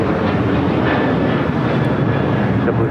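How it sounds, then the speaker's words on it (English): An American Airlines Boeing 737-800 taking off from runway 25 right at LAX, its engines producing a loud, steady, broadband roar that fills the scene without letup. "This is American Airlines 2608 taking off to Chicago O'Hare on the 737-800."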